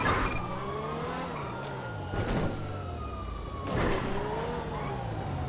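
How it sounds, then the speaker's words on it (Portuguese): A wailing police car siren chases the player's car in a GTA armored-truck heist, its rising and falling tones steady and close over engine roar and brief tire-squeal bursts, with no talking. "Tem uma viatura só atrás da gente."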